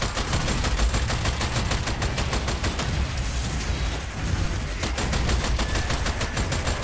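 Rapid gunfire in the video game Strange Brigade, a continuous stream of fast automatic shots with dense crackling bursts, loud and steady throughout, briefly thinning midway before resuming.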